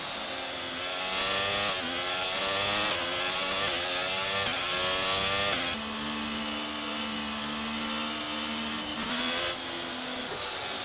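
Formula 1 car in F1 22, an online league race at the Canadian circuit: a loud, high-pitched engine screams through repeated upshifts and downshifts, pitch climbing and dropping in quick steps, with no talking.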